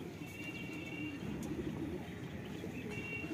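Kashmiri lal chap dhar pigeon cooing softly and steadily over a low background murmur, a continuous close coo with no talk.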